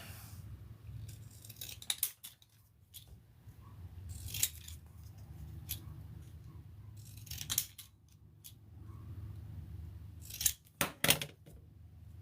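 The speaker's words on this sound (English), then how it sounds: "Now I will cut it." Scissors snip repeatedly at close range, a series of sharp crisp cuts spaced irregularly with quiet pauses between, including a quick cluster of snips near the end.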